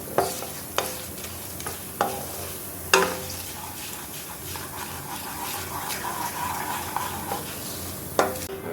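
Chana dal and urad dal sautéing in a pan for vegetable upma: a steady sizzle with several sharp stirring scrapes and knocks recurring every second or two.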